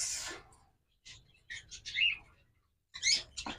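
Violet masked lovebirds in a bird-sale setting give a few short, sharp chirps and squeaky calls in separate bursts with brief silences between them, fairly close and alone.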